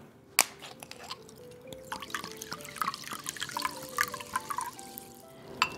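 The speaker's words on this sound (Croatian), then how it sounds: "U drugu činiju stavit ću 100 ml ulja" Oil and sparkling water poured into a bowl, heard as a run of close, wet drips and small splashes with brief fizzy patter and no talk.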